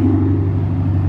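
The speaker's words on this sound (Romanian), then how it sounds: "Ia uitați cum se aude mașina asta." A car fitted with a loud, speaker-style amplified exhaust gives a steady, deep rumbling drone, close by and unbroken for about a second.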